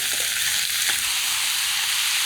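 Goat liver pieces frying in hot oil with salt and turmeric give a loud, steady sizzle and hiss that runs without a break, with no talking.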